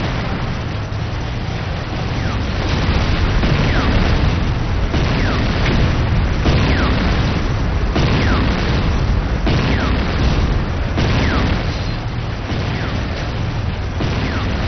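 Buildings blowing up one after another in a Command & Conquer real-time strategy battle, GDI structures such as an infantry barracks being destroyed: dense, continuous rumbling booms and crackling blasts that stay loud throughout, with heavy low-end thunder layered over steady battle noise.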